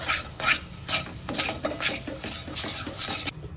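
A spoon scrapes and stirs through chole, a chickpea curry, in a pan after crushed kasuri methi goes in, with rhythmic rasping strokes that run steadily without speech.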